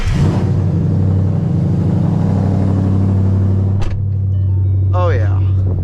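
Loud Mustang GT engine idling and rumbling steadily with a deep low drone during a night drive, a brief sharp click near the end and a faint rising whine after it.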